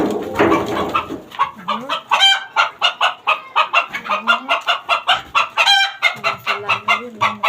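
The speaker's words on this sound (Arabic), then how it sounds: "البط اهو." Ducks kept in a home bird-rearing setup quack over and over in a steady, rapid rhythm, loud and close, with several overlapping calls.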